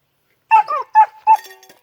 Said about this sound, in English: Here's our 13-week-old German Shepherd puppy.